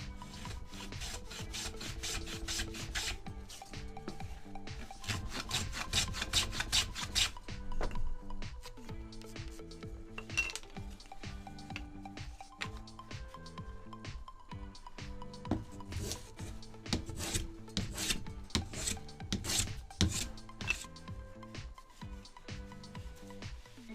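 Repeated rasping strokes of a finishing hand plane shaving wooden panels, a steady back-and-forth rhythm of scraping passes, close and fairly loud.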